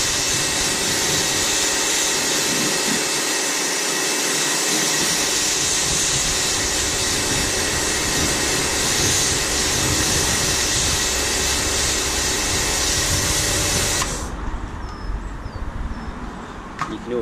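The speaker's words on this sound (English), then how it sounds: "jet wash it off" A pressure washer jet sprays steadily and loudly while rinsing Meguiar's Hybrid Ceramic Wax off a car, a continuous broad hiss that cuts out abruptly near the end, leaving quieter background sound.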